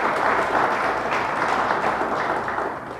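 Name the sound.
congregation applauding in church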